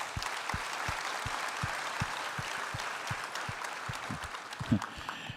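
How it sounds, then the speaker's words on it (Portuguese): A church congregation at a live celebration service gives a steady round of applause. Regular, rhythmic claps sound under a wash of many hands, moderately loud and reverberant, with a louder burst near the end. "Vamos dar uma salva de palmas para Jesus."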